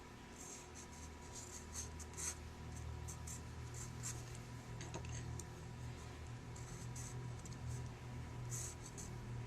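Pencil or pen sketching loosely on paper while drawing a subject, a soft steady scratching that runs continuously through the whole stretch, close and fairly quiet, with faint low room hum beneath and no talking.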